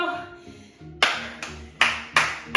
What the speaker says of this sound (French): Tu peux t'applaudir bien fort.